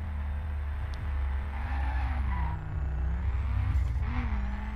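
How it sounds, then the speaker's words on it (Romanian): A Ford Focus in the video game The Crew does a burnout with brake and throttle held together, its engine droning loud and close while the pitch swells and dips over a low rumble. "Țin și frâna și accelerația în același timp."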